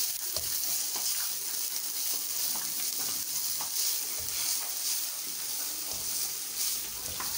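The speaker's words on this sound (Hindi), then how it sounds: "थोड़ी देर और फ्राई करते हैं" Chicken and egg roll filling fries in a pan with a steady, dense sizzle, broken by occasional soft stirring scrapes, close and even in level throughout, with no voices.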